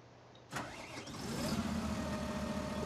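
A Fendt 939 Vario tractor in Farming Simulator 17 cranks and fires up abruptly, then settles into a steady, fairly quiet idle rumble with a faint whine.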